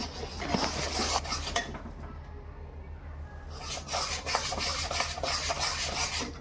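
Peanut powder and sesame seeds are stirred in a pan: dry, gritty rubbing and scraping of a spoon against metal, repeated in close strokes with a short quieter pause midway, no voices.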